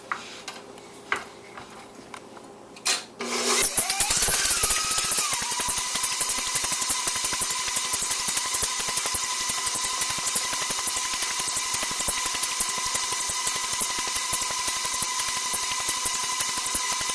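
A stand mixer creams one stick of soft butter with about three-quarters of a cup of brown sugar, a steady loud mechanical whir with a rapid ticking rattle that kicks in after a few quiet seconds and runs on alone.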